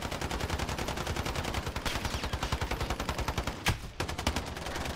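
Automatic weapon fire in a 2v2 Call of Duty Modern Warfare match, a steady rapid stream of loud, evenly spaced shots that breaks off briefly near the end, then resumes.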